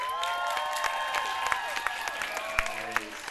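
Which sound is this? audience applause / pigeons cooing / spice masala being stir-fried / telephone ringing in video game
audience applause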